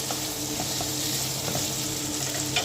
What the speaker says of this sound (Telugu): టమాటా ముక్కలు కూడా సగం మగ్గితే సరిపోతుందండి.